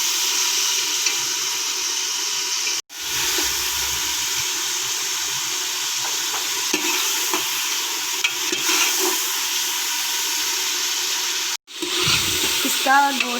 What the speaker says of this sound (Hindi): मैंने तकरीबन 3-4 मिनट इसको घी में फ्राई किया